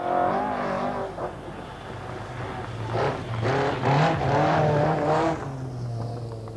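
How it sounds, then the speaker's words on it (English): A rally car engine revs hard and continuously at the 1985 Lombard RAC Rally, pitch rising and falling through repeated surges, loud and close with no talking. "Russell Brooks, listen to the revs."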